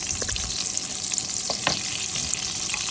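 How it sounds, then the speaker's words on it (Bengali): Onion sizzles in melted butter and a little oil in a pan, giving a steady, close frying hiss with occasional soft pops and stirring scrapes, and no talk. "এখন আমি পেঁয়াজটা বসিয়ে দিয়ে দেবো বাটার।"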